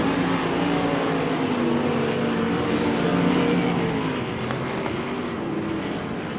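Sprint cars roaring around the dirt oval at Devil's Bowl Speedway during a heat race, a loud steady wall of engine noise with pack sound swelling and easing as cars pass.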